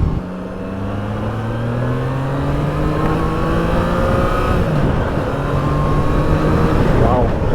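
Triumph Trident 660 three-cylinder motorcycle (2021) accelerating on a road test ride, its engine note rising steadily through the gears, loud and close with constant wind rush beneath.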